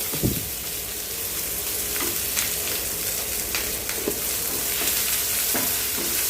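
Crushed garlic sautéing in a hot pan with ginger-garlic paste, curry leaves and dried chilies for an idli masala, a steady close sizzle with occasional stirring scrapes and clicks, no talk.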